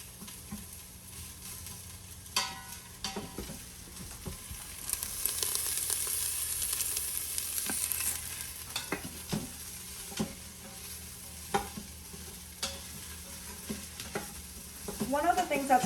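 Food browning and sizzling in a single pot inside a Deluxe Quick Cooker as the base for citrus herbed salmon, with steady frying hiss, occasional stirring scrapes and clinks, and a louder burst of sizzle midway, close and without talk.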